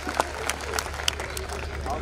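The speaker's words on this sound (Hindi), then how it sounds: "एक बार आप तालियां बजा दें" Faint, scattered clapping from an audience at a Hindi poetry recital with a low crowd murmur underneath, distant and fairly even throughout.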